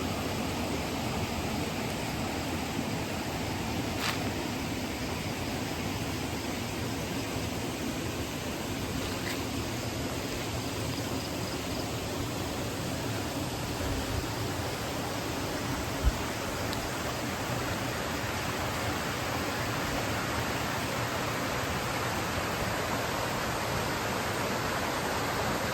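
Steady broadband rush of flowing water at a rubber-tree campsite during light rain, continuous and even throughout, with no voices and a single faint tap near the middle.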